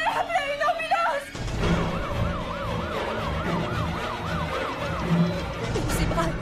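An ambulance siren wails in a rising and falling pattern through a horror film scene, loud and steady after a brief opening of other sound, with low rumbling underneath.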